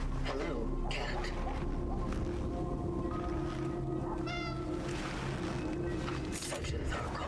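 A pet cat gives a single short, clear meow partway through, heard over a steady indoor background hum with faint voices.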